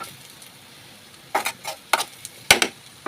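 Ginger, coriander powder, garam masala and turmeric frying in a pan for egg curry, a soft low sizzle broken by several sharp scrapes and clinks of a spoon stirring against the pan.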